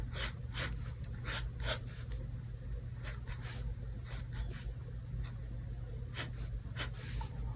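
A pencil scratches across paper in short, repeated sketching strokes, quiet and close over a low steady background hum.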